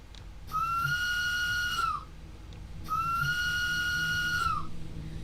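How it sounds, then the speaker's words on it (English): A steam locomotive whistle in Train Sim World 2 sounds two long, steady blasts, each about one and a half seconds, with a short gap between them, clear and alone with no talk. "Yeah, the whistle's still messed up."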